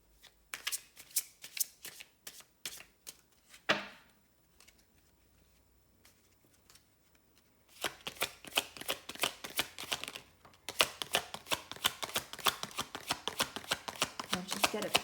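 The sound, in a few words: shuffling tarot cards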